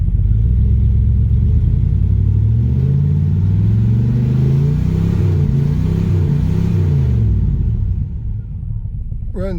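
A 1978 Lincoln Mark V Diamond Jubilee engine runs smooth and steady, a low close rumble with gentle rising and falling revs, which eases off near the end.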